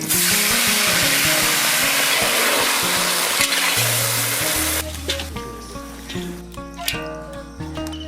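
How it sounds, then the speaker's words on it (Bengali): Prawns frying in mustard oil give a loud, dense hiss for the first half, then it cuts out, leaving soft background music playing on its own. "সর্ষের তেল, চিংড়ি মাছটা ভেজে নেব।"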